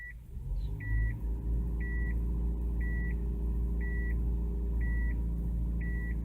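Nissan Micra engine held under load during a power brake, a steady loud low rumble with a regular electronic beep repeating about once a second over it, no talking.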